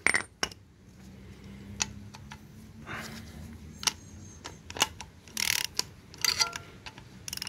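A metal washer and bolt are worked loose on a small Toyota petrol engine, giving scattered close metallic clinks and light taps, faint and irregular, with a short clatter of metal near the end.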